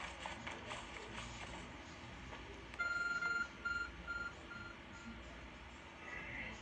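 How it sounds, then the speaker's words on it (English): A glowing object beeps in Pokemon Legends: Arceus, a series of short, evenly spaced electronic beeps in a brief pulsing burst over soft ambient game sound and footsteps. "There's a glowing beeping object over there."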